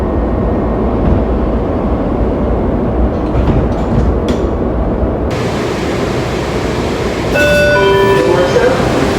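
A Washington Metro Silver Line train rumbles at a platform with steady low roar, then the door chime sounds as doors close and the train begins departing, tonal beeps ringing over the continuing rail noise.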